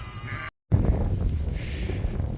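A newborn lamb only hours old gives a couple of short, close bleats on a sheep farm during lambing season, with soft background noise between the calls.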